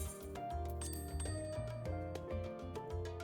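A crystal bell in Final Fantasy XIV gives bright, ringing chimes over layered in-game music, with quick repeated tinkling tones that are soft but clear.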